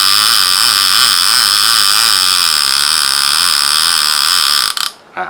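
Loud, continuous buzzing ratchet of an ABU 7000 fishing reel clicker, rapid clicks merging into a steady whir that cuts off abruptly near the end.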